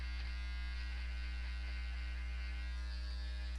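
An electric trimmer hums steadily while cutting through embroidery bobbin threads, a constant close buzz with a strong low mains-like drone and no breaks.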